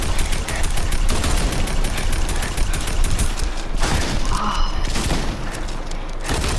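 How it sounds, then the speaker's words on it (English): Dense, continuous gunfire from the video game Fortnite, loud and close with overlapping bursts and booms throughout, no clear pauses. "Why did you stop shooting me?"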